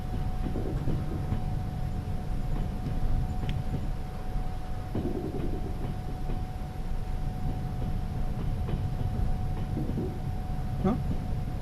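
A train rolls along the rails in the Trans-Siberian Railway Simulator video game, a steady low rumble with a faint constant tone and occasional soft clicks throughout.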